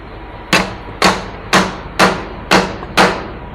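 Frozen vehicle doors struck hard to crack the ice: six sharp, evenly spaced knocks about half a second apart, close and loud, each with a brief ringing decay, with no talking.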